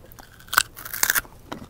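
A large, freshly harvested raw golden beetroot is bitten into up close, giving a few crisp, crunchy bursts: one sharp crack, a longer crunchy bite, then a smaller chewing crunch.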